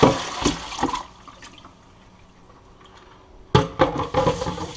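Water is dumped out of a bowl of soaking goose meat. A splashing pour comes first, then a quiet stretch, then a second burst of splashing and dribbling close by.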